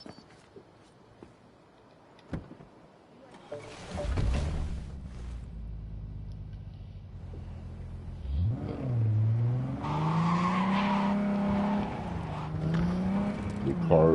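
Car in Cyberpunk 2077, front-wheel drive, starts up and revs, then the engine climbs and drops through gear changes as it drives off. The sound is close and steady, with a voice talking briefly over it.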